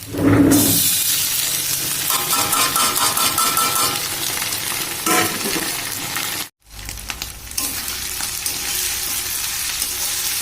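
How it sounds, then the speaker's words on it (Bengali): Ginger-garlic paste hits browned onions in a hot pan for a lightly spiced chicken curry, giving a loud, continuous sizzle with stirring scrapes, a brief cut midway, then frying resumes steadily. "এবারে আমি ব্রাউন ব্রাউন কালার হয়ে গেছে পেঁয়াজটা দেখুন এবার আমি এতে আদা রসুন বাটা দিয়ে দিচ্ছি"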